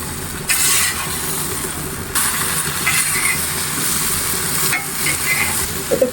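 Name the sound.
cauliflower and potato stir-fried in spice paste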